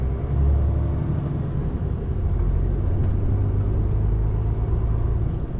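A car towing a trailer creeps along slowly with light throttle, giving a steady low engine rumble and road noise close by inside the vehicle, constant throughout with no talk.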